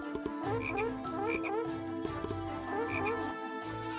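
Frogs croak in repeated pulsing bursts through the whole stretch, loud and close, with rising trilled calls layered over a steady low chorus and no talking.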